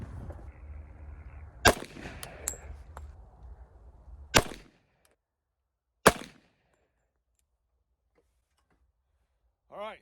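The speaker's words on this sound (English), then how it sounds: "The first 3 we're gonna shoot is 200 grain round nose flat point." FNX Tactical .45 ACP pistol firing 200 grain round nose flat point rounds, three sharp loud reports spaced a couple of seconds apart, ringing briefly, outdoors with background noise before the quiet.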